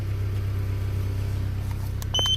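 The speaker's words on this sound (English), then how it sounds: "But it got a little muffler noise. The muffler's kind of loud." A Honda Civic idles with a loud muffler, giving a steady low pulsing rumble up close. A few light clicks and beeps come in at the end.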